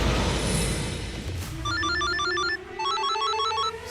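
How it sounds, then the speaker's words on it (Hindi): A telephone rings with repeated bursts of trilling electronic tones, two clear ring cycles over a low background hum and a rising tone. "सुबह सुबह किसका फोन है?"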